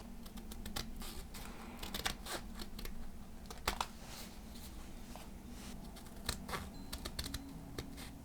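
Scissors snipping straight lines through a folded paper snowflake, a steady run of close, crisp clipping and crinkling sounds with no voices.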